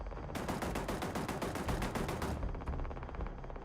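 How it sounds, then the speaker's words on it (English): Enemy gunfire in Starfield crackles in rapid automatic bursts, loud and sustained, a rattling stream of shots that thins slightly toward the end. "Who is shooting?"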